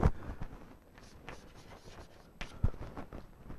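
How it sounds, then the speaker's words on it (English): Chalk or marker scratching on a board during a lecture, with short strokes and taps spread unevenly across the moment and a couple of firmer knocks, and no voice over it. "let me write"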